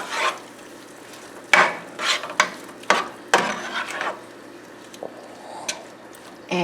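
Zucchini noodles with shrimp cooking down in a skillet, a steady soft sizzle broken by several brief scraping stirs and clinks from a utensil, close and moderately loud, with no talking.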